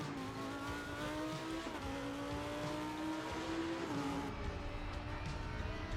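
A race car engine in the RaceRoom racing game drones continuously through a lap, its pitch climbing through the gears with brief shifts and faint tire noise, steady and moderately loud.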